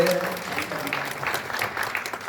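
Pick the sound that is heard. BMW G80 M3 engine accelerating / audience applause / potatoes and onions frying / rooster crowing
audience applause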